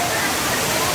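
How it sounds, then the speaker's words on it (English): A waterfall along the Na'vi River Journey ride in Disney's Animal Kingdom makes a loud, steady, close rushing roar with no break, masking everything else. "So look at that waterfall."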